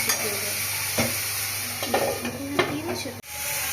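Spices and curry sauté in a pan with a close, steady sizzle, interrupted by a few scraping strokes of the spatula and a brief knock near the end.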